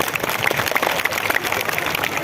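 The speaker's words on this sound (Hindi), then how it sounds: "एक बार उनका लिए जोरदार ताली बजाइए वहां से।" Scattered clapping from a crowd at a Jan Suraaj political rally in Pupri, dense and continuous, with faint voices mixed into the noise.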